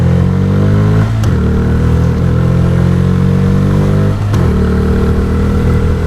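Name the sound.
CNG motorcycle engine accelerating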